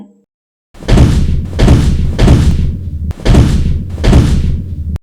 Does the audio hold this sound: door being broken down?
yes